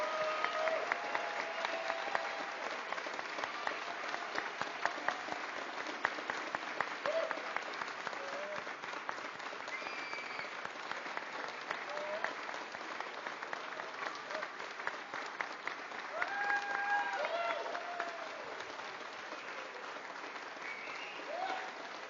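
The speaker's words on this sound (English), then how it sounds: "please join me in one final round of applause to wish all our graduates the best" Sustained applause from a large convocation audience for graduates, steady and moderately loud throughout, with faint voices and whistles scattered through the crowd noise.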